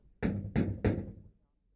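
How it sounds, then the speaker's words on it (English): Three firm knocks on a wooden door at dinner time in a family home, evenly spaced and close, followed by silence. "Someone knocks at the door."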